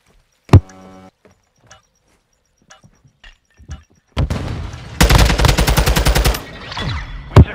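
Gunfire in the video game Modern Warfare 2 during a search and destroy match: a single loud shot, scattered faint pops, then a sustained burst of rapid automatic fire with a final sharp shot.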